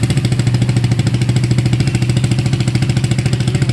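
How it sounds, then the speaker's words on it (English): A Yamaha R15 V3 motorcycle fitted with a Daytona exhaust and baffle idles loudly and close, a steady rapid low thumping pulse with no talk over it. "But I think we're just turning the bike on to see."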